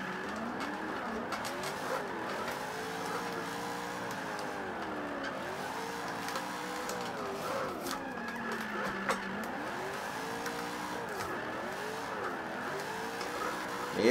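Engine of a car drifting in Forza 5, played with a wheel: a continuous revving note that rises and falls in repeated sweeps with tire squeal, steady and close for the whole stretch.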